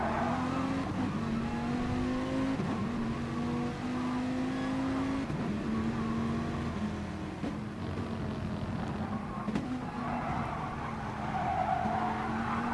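Race cars lapping Red Bull Ring in Gran Turismo Sport, a steady droning engine note with shifting pitch and tire squeal, several cars blending into one continuous loud roar without talk.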